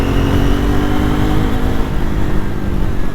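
A Triumph Scrambler 400 motorcycle engine pulls steadily under acceleration, a loud continuous low drone with rising harmonic bands, close and dense, mixed with wind rush and no speech.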